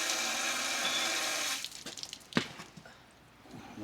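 Water hissing and gurgling out of the valve of a water-ballasted tractor tire, a steady rushing spray that breaks into sputtering splashes and drips, close by.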